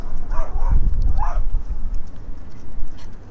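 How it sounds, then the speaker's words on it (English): Chihuahuas barking outdoors, a few sharp yips early on over rumbling wind noise, then fading into background noise. "Goddamn chihuahuas."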